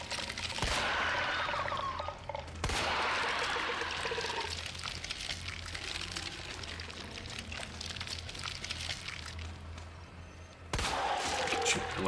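Gunshots fire in the video game Resident Evil 2 Remake, a few sharp loud blasts spaced seconds apart over a dense, noisy background of game ambience, with a voice faintly talking.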